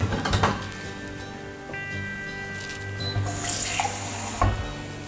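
Water runs from a kitchen tap while raspberry coulis cooks, a steady wash with brief louder gushes near the start and end, heard alone without talk.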